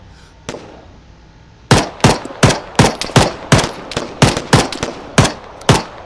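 Gunfire in the video game Arma 3 with the Ravage mod: one faint distant shot, then after a pause about a dozen sharp, loud reports in an uneven rapid series, each with a short echoing tail, with no talk.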